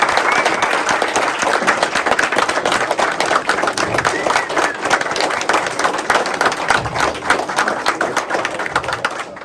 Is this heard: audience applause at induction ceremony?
yes